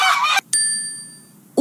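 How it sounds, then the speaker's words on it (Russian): A children's toy goose gives a short, loud electronic honk, followed by a clear, ringing bell-like chime that slowly fades, then another brief sound at the end. "покажи гуся"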